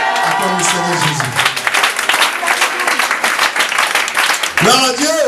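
A church congregation bursts into sustained applause and cheering acclamation, dense clapping from many hands in a reverberant hall, with voices calling out over it and a speaker's voice rising near the end.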